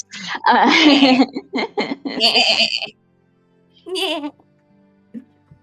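A voice imitates a goat's bleat in a quick wavering burst, followed by a pause and a shorter second bleat, with talk beforehand.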